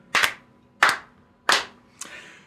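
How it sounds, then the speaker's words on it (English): Slow, evenly spaced hand claps, close and sharp: three crisp claps about a second apart, then a fainter fourth that trails off, with a quiet room between them. "Mom, ready to clap?"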